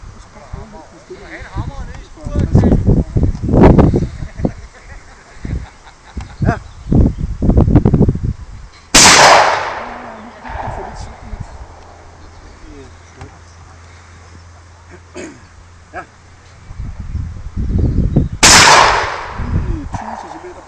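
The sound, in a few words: shotgun shots while shooting outdoors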